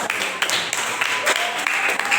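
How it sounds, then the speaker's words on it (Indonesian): Students in a classroom clap together for their classmates, a busy, fairly loud patter of many hands with some sharper individual claps and faint voices mixed in. "Tepuk tangan untuk teman-teman."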